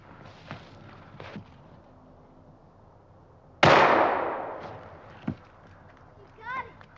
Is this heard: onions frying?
no